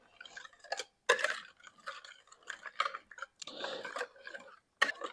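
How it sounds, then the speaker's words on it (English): Wire whisk stirring chocolate chip banana bread batter in a bowl, a quick series of soft clicking scrapes and taps against the bowl in irregular bursts, close and fairly quiet with no talking. "And let me actually whisk it in."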